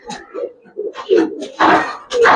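Domestic pigeons, including Giribaz silver and racer birds, cooing up close in a series of soft, throaty bursts that grow louder toward the end.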